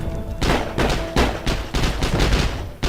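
Rapid bursts of gunfire in the video game Heroes & Generals, several sharp loud shots in quick succession with heavy low thumps, no talking.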